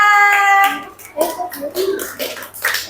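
A classroom group breaks into short, scattered hand claps for group 2 during an Indonesian teacher training session, starting right after a brief spoken line, uneven and moderately close.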